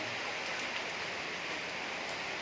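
Rain pours down as a continuous, even hiss, close and fairly loud, with no voices or other sounds standing out.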